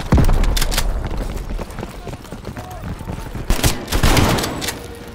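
Shotgun blasts in Call of Duty: Black Ops Cold War, a few sharp booming shots near the start and a cluster later among game noise and footsteps, with a player talking throughout.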